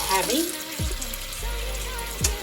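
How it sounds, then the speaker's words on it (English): Tap water runs into a cooking pot in a home kitchen, a steady splashing stream with a few clunks and knocks of the pot, moderately close. "we're gonna fill the pot with some water"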